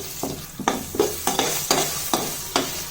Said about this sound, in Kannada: ಇದನ್ನ ಎಣ್ಣೆಯಲ್ಲಿ ನೀಟಾಗಿ ಫ್ರೈ ಮಾಡ್ಕೊಳ್ಳಿ